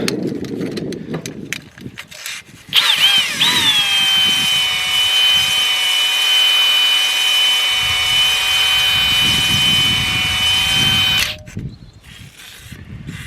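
A power-driven hone working the corroded cylinder bore of a Case 1394 tractor engine to lay in a cross hatch, spinning up to a steady whine for about eight seconds, then stopping amid handling clatter.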